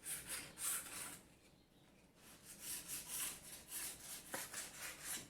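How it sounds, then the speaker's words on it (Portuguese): Painted wood being sanded gently by hand with 220-grit sandpaper, a soft rhythmic rasping of repeated strokes heard up close and faint, with a brief pause partway through. "vou começar a fazer a pátina usando a lixa 220 para fazer o acabamento. Vou lixar suavemente."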